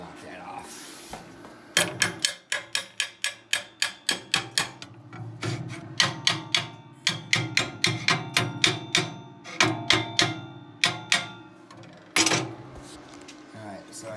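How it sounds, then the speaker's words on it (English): A hammer knocking dross off a plasma-cut steel edge, a rapid series of sharp metallic strikes in quick bursts, loud and close, with short pauses between runs. "I'll just go ahead and grab my hammer and I'll knock that off."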